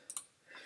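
A computer mouse gives two quick, faint clicks close together, then a soft rustle.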